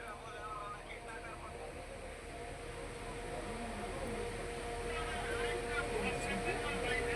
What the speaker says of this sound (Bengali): এটার নাম হলো ডাইং মেশিন।